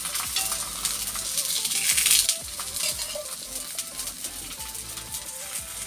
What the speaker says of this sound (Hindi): इसको भी सेक लेते हैं। इसके भी घी लगा लेते हैं नीचे।